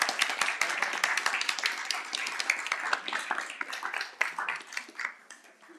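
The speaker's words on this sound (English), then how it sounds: "Please, a round of applause again for her" Audience applauding after an undergraduate math seminar talk, a dense burst of many hands clapping nearby that gradually thins and fades over several seconds.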